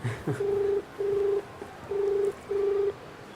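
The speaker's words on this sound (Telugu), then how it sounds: "నా ఫోన్ లో చేస్తే నెంబర్ ఉంటది కాబట్టి మీ ఫోన్ లో చేద్దాం" Four steady, evenly spaced electronic tones sound loud and close, each lasting about half a second, as a phone number is dialed on a mobile phone for a prank call. No voices are heard.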